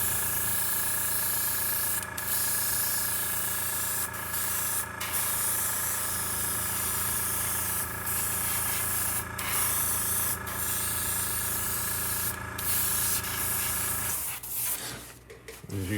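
A Gaahleri Seeker airbrush sprays paint in a steady, close hiss with a constant mechanical hum beneath it, cutting off near the end and leaving brief handling noises.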